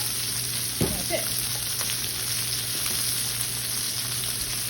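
Chicken breast sizzling as it sears in a hot pan, a steady soft frying hiss with a brief sharper burst early on, alone without talk.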